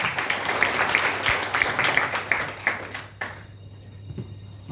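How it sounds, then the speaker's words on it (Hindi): An audience at a product presentation claps in a loose, brief burst of applause that thins out and stops after a few seconds. "जोरदार ताली हो जाए इसके लिए"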